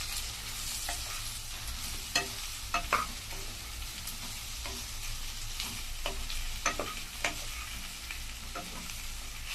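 Pumpkin fry being stirred in a pan after salt, chilli powder and turmeric go in: a soft continuous sizzle broken by several distinct clinks and scrapes of a spoon against the pan.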